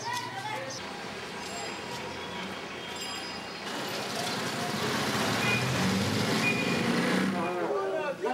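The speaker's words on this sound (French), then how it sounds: "ses rues et ses ruelles engorgées de circulation où se mêlent toutes sortes de véhicules abusant du klaxon en permanence" Congested traffic in the streets and alleys of Kathmandu, with many kinds of vehicles using their horns constantly: a dense roar of engines with short horn blasts and beeps cutting through. Someone talks over the street noise throughout.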